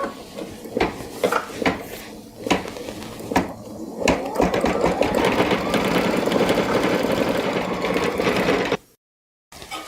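An embroidery sewing machine stitches appliqué toenail details. It opens with a few separate thumping stitch bursts, then settles into a continuous, fairly loud mechanical stitching run that stops abruptly near the end.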